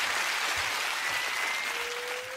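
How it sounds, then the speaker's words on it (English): Studio audience applause on a UK game show, a steady wash of clapping from a crowd, fairly loud and continuous throughout with no talk. "Give them a round of applause."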